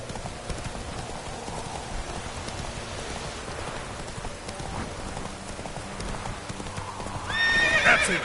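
Roach, the horse in The Witcher 3, gallops in a steady clip-clop rhythm through falling rain. A whinny breaks out near the end, with faint talk barely audible.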